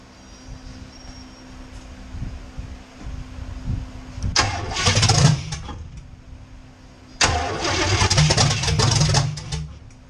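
A V8 swapped in place of a V6, fed by throttle-body injection, cranks and catches in two loud bursts, revving up before settling, close to the listener over a low background hum.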